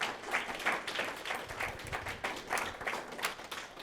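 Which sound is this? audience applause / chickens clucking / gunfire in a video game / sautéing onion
audience applause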